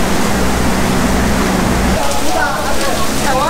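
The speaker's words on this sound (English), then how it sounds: "So the rain is still pouring down here" Heavy rain pouring down at Man Mo Temple in Hong Kong, a dense steady roar of water with dripping from the roof, loud and continuous, with faint voices in the background.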